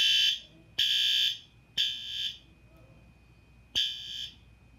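A fire alarm sounds in four sharp, piercing electronic beeps, each about half a second long, separated by pauses, with a faint steady tone underneath.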